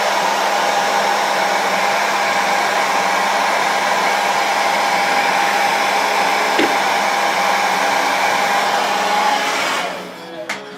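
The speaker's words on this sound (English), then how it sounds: "Let's get this blow dryer for here." A blow dryer runs steadily at close range, heating a freshly painted area on a garage model kit, with a constant whine and airy roar that hold for about nine seconds before it switches off and spins down.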